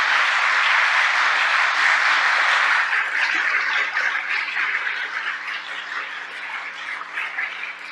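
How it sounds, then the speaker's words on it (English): Crowd applause for New Yorkers at a news briefing: a dense, sustained wash of clapping that stays loud for about three seconds, then thins and softens slightly while continuing to the end. "Give New Yorkers a round of applause."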